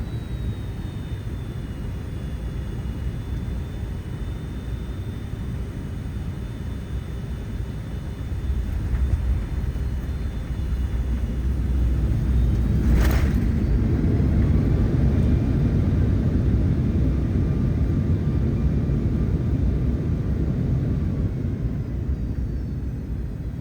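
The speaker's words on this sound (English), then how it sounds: "please enjoy this landing into San Francisco International Airport" Cabin noise on a United Polaris domestic first-class flight from Denver landing at San Francisco International Airport: a loud, steady low roar that swells midway, with one sharp click near the middle and no talking.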